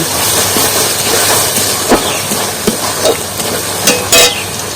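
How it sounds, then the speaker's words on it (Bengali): Grated raw papaya stirred through sugar in a pan over a low flame, giving a steady scraping, rustling stir with a few sharper clinks and scrapes near the end, close and fairly loud, no talk. "পেঁপেটা একটু নাড়িয়ে নেব"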